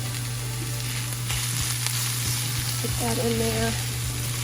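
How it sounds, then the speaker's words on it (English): Vegetables sauté in a pan with a continuous close sizzle over a low steady hum. A voice speaks briefly near the end. "Saute it all together."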